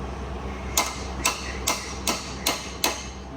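A hammer strikes metal six times at an even, unhurried pace while struts are installed on a Land Rover Defender 6x6, each blow a sharp, close, ringing tap over a low steady hum.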